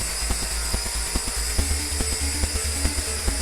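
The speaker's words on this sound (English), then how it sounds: "this is it hovering in place in the house in a no-wind environment" A BOJIANG S1 quadcopter drone hovers in place inside a house with no wind, giving off a steady high-pitched motor whine with faint, regularly spaced low ticks underneath. No one speaks.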